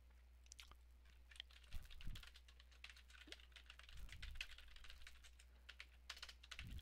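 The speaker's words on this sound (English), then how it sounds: "I'm just gonna type this message to them real quick." Someone types on a computer keyboard in quick irregular bursts of soft clicks, close and quiet with no talking.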